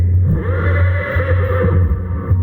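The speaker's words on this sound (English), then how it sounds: "Horses paw impatiently and the knights lower their lances." A horse whinnies loudly and close in a video game knight battle scene, one long wavering neigh over a steady low hum.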